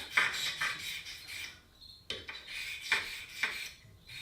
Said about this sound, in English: take our fine cylinder bore hone, or you can use a fine stone for this. Wet it down, and we're going to polish that smooth.